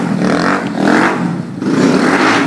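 Motorcycle exhaust from a motard club machine revving hard for about two seconds, dipping briefly, then climbing again, loud and close with a raspy mechanical clatter.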